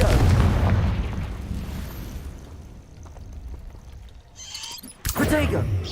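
A Confringo blasting spell detonates in the Hogwarts Legacy video game, a heavy booming explosion that rumbles and fades over a few seconds before a second sharp blast bursts near the end, with a spoken voice around it.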